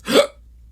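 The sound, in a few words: hiccup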